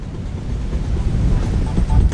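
Wind gusting across the water on a fishing boat near Goose Bay off the St. Lawrence River, a rough low rumble buffeting the microphone with rising gusts toward the end, close and steady.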